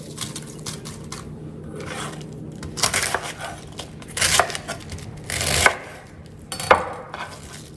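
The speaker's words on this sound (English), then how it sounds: "just cut them into chunk-sized pieces" Knife chopping cabbage into chunks on a board, a handful of irregular crunchy cuts and thuds, close and fairly loud, with soft rustling of leaves between them.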